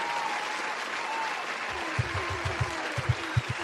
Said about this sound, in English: I want some applause for Mama Leaks.